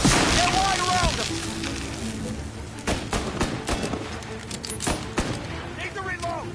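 Gunfire in Mafia Definitive Edition, sharp shots and bursts scattered through a shootout, with voices shouting over the action.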